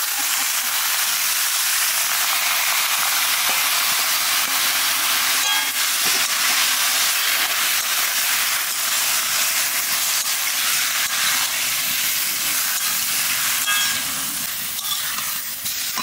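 Squid dropped into a hot pan with sauce, a loud, steady frying hiss and sizzle filling the whole stretch close up, with no talking.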